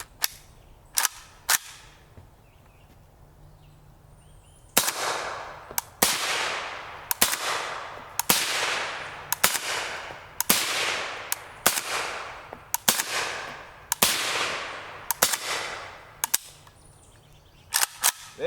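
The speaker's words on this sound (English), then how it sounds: "We'll see if the addition of the suppressor on our M92 will let our subsonic cycle." A suppressed M92 rifle fires 7.62x39mm 196-grain FMJ subsonic rounds in a steady string of about a dozen sharp, muffled reports, preceded by a few isolated shots, each a crisp crack with a short decay outdoors.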